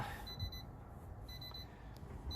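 Electronic beeping from equipment on a boat or vehicle restarting after the battery dead-man switch is flipped back on; repeated thin tones sound faintly over a steady background hum, with no talking.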